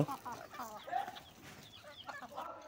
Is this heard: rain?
no